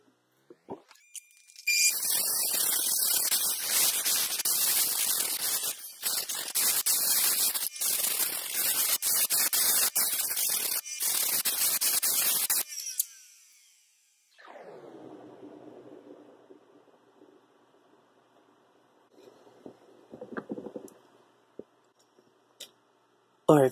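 Dry 3000 grit polishing of a lemon chrysoprase stone on a lapidary machine gives a loud hissing, scratchy grind with brief breaks for about eleven seconds, then a motor whine that winds down into quiet.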